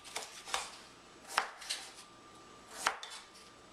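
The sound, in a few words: peeling artichoke stems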